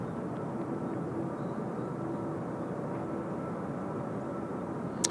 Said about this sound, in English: Asiana 202 service to Los Angeles about to roll now.